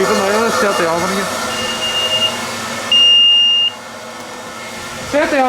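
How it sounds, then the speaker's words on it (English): A steady electronic beep sounds twice amid background hum and indistinct voices, the second tone louder and held for under a second. "The oven's beeping now"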